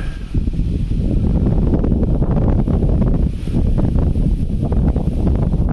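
Strong gusting wind buffets the microphone beside a small Ista Breeze 2 kW wind turbine, loud continuous low rumble and roar that swells and eases slightly, no voices.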